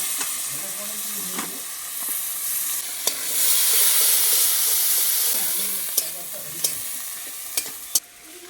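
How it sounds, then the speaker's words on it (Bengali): Onions frying in hot oil as the base for a fish curry, a steady sizzle and hiss with occasional sharp stirring clicks against the pan. "প্রথমে আমি যেটা দেবো সেটা হলো পেঁয়াজ ফোড়ন"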